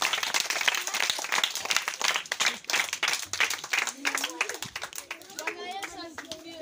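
A gathered audience at a Bible school event claps in welcome for their teacher, a dense run of sharp hand claps over several seconds, with children's voices chattering and calling out through the clapping.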